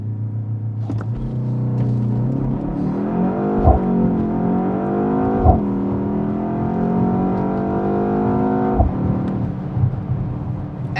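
A 2025 BMW X2 M35i launches hard from launch control, its engine note rising loud and steady through several gear changes with a brief tire scrub at the start, no voices over it.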